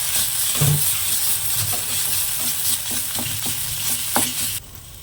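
Ginger and garlic sauté in a pan for chicken samosa filling, a close, steady sizzle and frying hiss with clatters of stirring spread throughout, and no voices.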